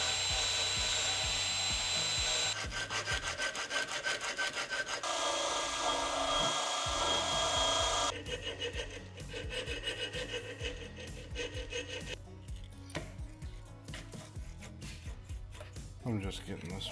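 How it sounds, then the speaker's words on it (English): A BMW E46 parking brake part is sanded and wire wheeled, giving continuous loud abrasive grinding and rasping with a shift in tone partway through, close up, with someone talking over it at times. "Gonna sand this and wire wheel this."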